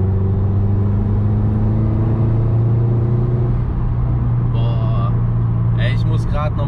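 A Subaru Impreza WRX STi with a boxer engine drives along, its low, steady engine rumble and road noise loud and continuous from inside the car, with brief higher whistling sounds near the end.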